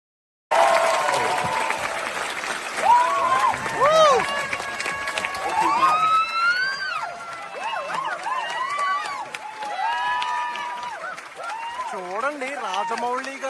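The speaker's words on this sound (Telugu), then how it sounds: "రాజమౌళి గారు వచ్చేసరికి థియేటర్ అంతా లెగిసి క్లాప్స్ కొడుతున్నారు" A theater audience at a special screening of Eega in Paris rises in a standing ovation for director S. S. Rajamouli, with sustained clapping and cheering under continuous loud music and voices.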